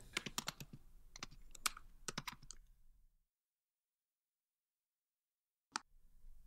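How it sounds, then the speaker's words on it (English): Computer keyboard typing in a rapid burst of clicks for about three seconds, then silence and a single later keystroke, close and fairly quiet, with no talking. "So let me just type it out as organic oranges."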